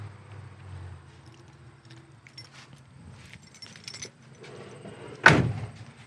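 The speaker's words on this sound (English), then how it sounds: "Door shut nice." Faint rustling and light jingling lead up to a single solid thump of a 1972 Chevy Nova SS door shutting nearby.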